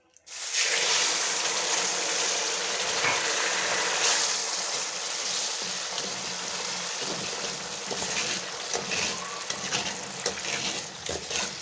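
Water is sprinkled into a pot of mutanjan, Pakistani sweet rice cooking with sugar, and a loud, broad rushing sizzle bursts up and carries on steadily, close by, with no voices.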